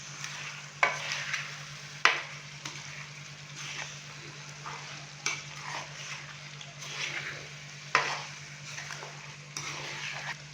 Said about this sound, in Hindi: आलू डालने के बाद हमने अच्छे से मिक्स कर दिया है इन्हें